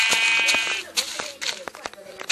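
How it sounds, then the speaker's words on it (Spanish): Sheep in Minecraft Pocket Edition bleat several times in quick succession, loud and close, with short game sound effects scattered between the calls. "Ven para acá, oveja."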